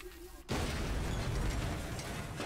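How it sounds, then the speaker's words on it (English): Large explosion in the video game Valiant Hearts: The Great War, a sudden loud blast that erupts after a brief quiet moment and roars on as a dense, sustained rumble. "that guy paid absolutely no attention to the large explosion that just took place"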